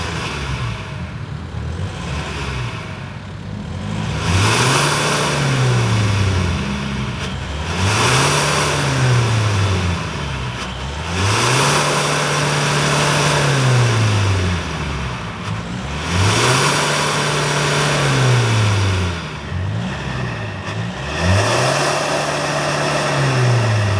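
A Tank 300 SUV fitted with a JTC titanium exhaust revs hard five times in a steady rhythm, each throttle blip swelling and falling back to a rumbling idle, loud and close with no talking.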